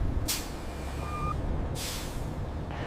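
A truck's air brake being set: two sharp, loud hissing bursts of released air about a second and a half apart, over a steady low engine idle.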